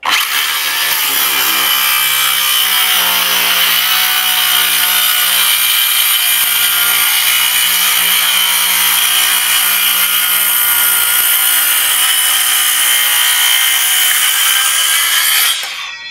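A cordless circular saw runs continuously, loud and steady with a high whining rasp as it cuts through wood, stopping abruptly at the end.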